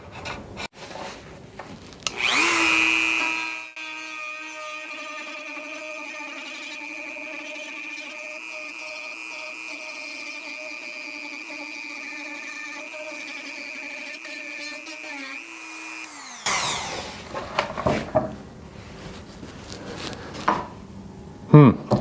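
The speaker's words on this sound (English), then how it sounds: "I'm gonna use this bit on the Dremel. It's a lot of wood to take out with that bit." A Dremel rotary tool with a cutting bit removes wood from bathroom trim, giving a steady high-pitched whine with a grinding edge that runs loud and continuous for about twelve seconds, then winds down into scattered handling noises.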